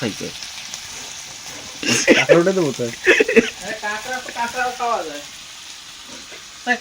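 Crab and fish fry with ginger at a camp house, a steady soft sizzle running beneath a nearby voice talking.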